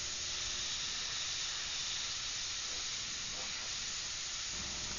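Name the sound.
airbrush spraying paint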